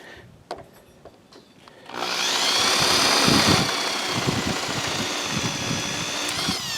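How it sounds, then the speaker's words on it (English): Power drill boring out rivet heads on an RV camper awning, a few faint clicks and handling noises before the drill whines in loudly and holds a steady high-pitched grinding with slight bumps. "now we'll go ahead and drill these out"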